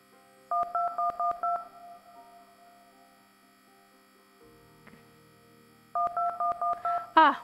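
A cell phone number is dialed in a video game about a plane accident, two quick runs of crisp keypad tones separated by a quiet pause, clear and close.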